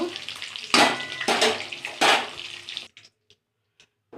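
An egg frying in hot oil in a pan, loud crackling bursts of sizzling in three surges, close by, then dropping abruptly to near silence with a few faint pops.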